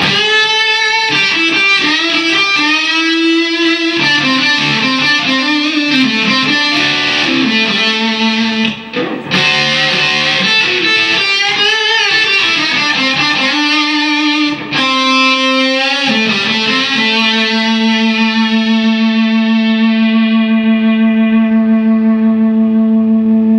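Spear NSG Relic electric guitar played through effects with echo and reverb, sustained ringing notes and chords with a bright, clear tone, loud and alone, ending on a long decaying chord.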